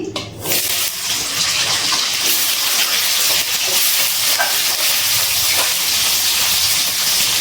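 Cut potatoes fry in a pan of hot oil, giving a loud, continuous sizzling hiss that holds steady throughout with faint clinks in the background.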